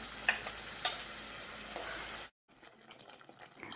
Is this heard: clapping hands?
no